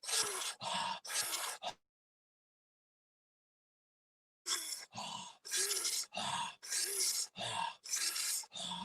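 A person takes deep, rapid breaths during a guided breathwork session, loud and close in a steady rhythm. The breathing stops for a few seconds of silence, then resumes at the same forceful pace, with no talking.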